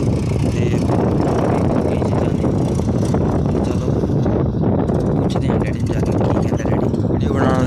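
A Swaraj tractor engine runs continuously in a farm field with a steady low rumble and wind buffeting the microphone, while a person talks over it throughout.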